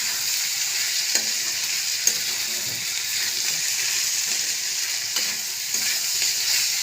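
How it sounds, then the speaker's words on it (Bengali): Ginger paste fries in hot oil for chowmein, giving a steady, close sizzle with occasional soft stirring knocks against the pan. "আদা বেশি ভাজবো না"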